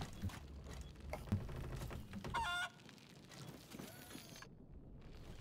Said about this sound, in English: Oh, is that the chicken you can carry?